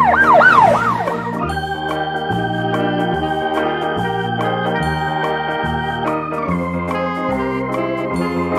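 A wooden toy police car siren wails in a rising and falling electronic tone, quickly joined by a looping synthetic melody that continues steadily at close range.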